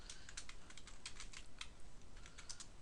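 Rapid typing of column headings into an Excel spreadsheet, giving a steady run of close, bright keystrokes over a constant background hiss.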